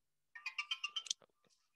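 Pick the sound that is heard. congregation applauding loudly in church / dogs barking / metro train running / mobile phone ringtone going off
mobile phone ringtone going off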